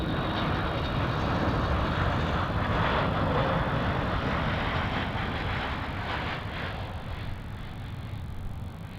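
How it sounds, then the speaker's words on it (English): A Bonza Boeing 737 MAX touching down on runway 34 at Melbourne Airport, its jet engines a loud broadband roar that holds steady and then eases slightly as the aircraft rolls out. "We have the Bonza 737 MAX about to touch down here on runway 34"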